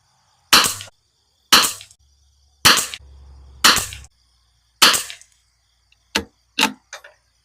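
Seven sharp rifle shots from a heavy-barrel rifle fitted with a tuner ring out at a range for a five-shot group, spaced about a second apart, loud and close with brief decays and no talk.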